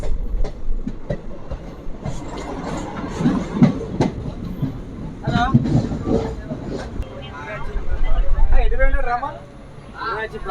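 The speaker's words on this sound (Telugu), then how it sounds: "ట్రైన్ స్టేషన్ నుండి బయలుదేరినాము" Passenger train pulling away from Mancherial station, its wheels clacking in a steady rumble throughout, with people talking nearby over the running noise.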